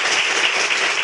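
Studio audience at a television broadcast applauding, a dense, even burst of many hands clapping close by for about a second.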